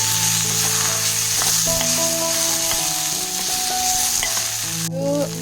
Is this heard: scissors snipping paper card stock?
no